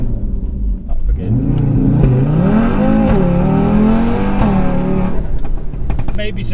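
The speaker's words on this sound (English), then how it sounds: "Try and do a launch here, see if it launches." A 520 bhp Audi RS3 hatchback pulls away hard in a launch attempt, its engine rising loud and close in pitch and revving up through the gear before easing off, heard from inside the car with someone talking.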